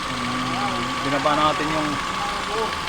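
A Subaru car engine runs again after its cylinder head was rebuilt, idling steadily at close range, while people talk over it.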